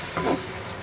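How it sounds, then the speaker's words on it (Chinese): Diced pork dropped into hot oil in a wok, giving a brief burst of sizzling and stirring under a steady background hiss, alone with no talk. "锅中倒入油，油后呢下入肉丁，炒至肉丁变色"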